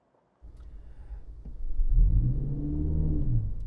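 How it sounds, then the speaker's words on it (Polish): A Lexus UX300h hybrid car engine starts up and idles, then builds to a deeper, louder rumbling hum as it revs steadily, heard close with no talking. "Ten silnik jest trochę jak mruczenie tygrysa."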